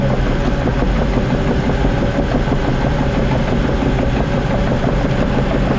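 A heavy excavator engine runs steadily while the machine digs and cuts back a hill, a loud, continuous low rumble with no breaks and no talking.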